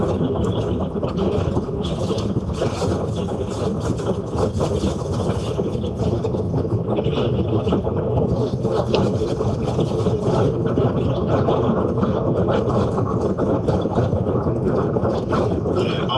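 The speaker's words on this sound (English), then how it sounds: "Get some good winds here." Strong gusty wind roars steadily and loudly against the microphone during a storm chase in North Texas and southern Oklahoma, a dense low rumble buffeting without letup.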